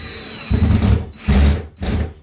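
Power drill driving a screw through a shelf into drywall: three short, loud whirring bursts separated by brief pauses, close up.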